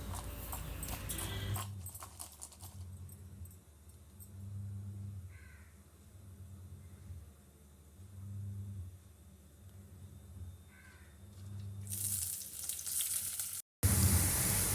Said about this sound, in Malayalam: ഇനി ഇതെല്ലാം നല്ലപോലെ ഒന്ന് വഴറ്റിയെടുക്കാം.